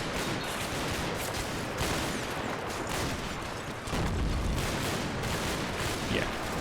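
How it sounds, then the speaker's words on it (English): Heavy machine gun fire rattles through a Combat Mission: Battle for Normandy battle scene as dense, continuous bursts of gunfire with booming low rumbles, loud and sustained throughout. "heavy machine gun takes out our gunner there"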